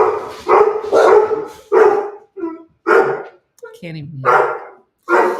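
Dogs bark repeatedly at a house window, loud and close, in a series of sharp barks with some yips and whimpers, mixed with a person talking.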